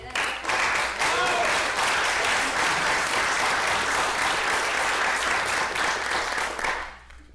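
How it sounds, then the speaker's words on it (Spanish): Warm, sustained applause from a concert audience at a piano recital fills the room at full strength, with a few voices mixed in, then fades quickly near the end. "invito y pido por favor un aplauso para mi compañera."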